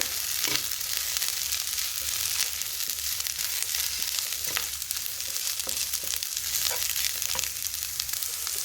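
Drumstick leaves with salt sauté in a pan with a continuous loud sizzle, punctuated by occasional stirring scrapes and taps, with no voices.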